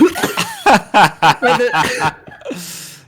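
Several sharp, raspy coughs come in a quick uneven burst, then a softer breathy exhale trails off, close and fairly loud with no clear talk.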